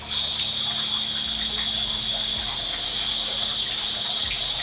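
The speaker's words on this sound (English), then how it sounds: "Do you water my elderberries?" Water gushes steadily onto the base of elderberry plants, a continuous, even rush of flowing water with no pauses.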